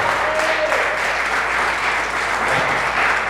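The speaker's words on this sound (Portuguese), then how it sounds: "Aplauda o Senhor" Church congregation applauding during a sermon, a full, even roar of clapping from many hands that holds steady throughout, with no talk over it.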